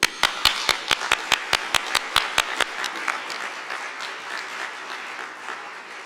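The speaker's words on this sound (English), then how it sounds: "Please join me in another round of applause for the students and their teachers." Audience applause at a Department of Justice Asian American and Pacific Islander Heritage Month observance, honoring students and teachers: a run of about a dozen crisp, evenly spaced claps over a steady bed of clapping that slowly fades.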